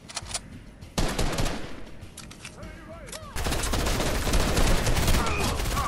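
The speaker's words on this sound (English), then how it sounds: "I hear people shooting" Gunfire in the Fortnite video game, bursts of rapid shots starting near, then a steady, louder stretch of continuous firing filling the last few seconds.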